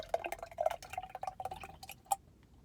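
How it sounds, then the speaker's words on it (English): Coconut water pours and splashes into a smoothie blender jar, a run of bubbly glugs and drips in uneven bursts, fairly close and quiet, ending with a final splash. "I'm gonna add a little bit of coconut water."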